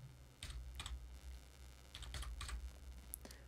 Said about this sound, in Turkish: Bu kodu açılan uygulamadaki Receive altında yer alan Input Key kısmına yazıyorum.